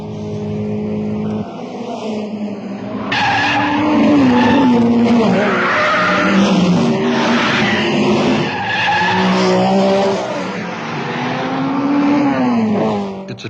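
Race cars at the 1962 Monaco Grand Prix, loud high-revving engines whining and shifting pitch as they roar close past, with tires squealing through the turns, continuous and dense.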